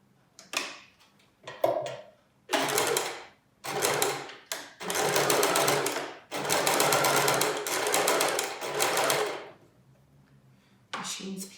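Sewing machine stitching a concealed-zip cushion, running in several loud bursts of rapid whirring stitches separated by short pauses, close up with no talk.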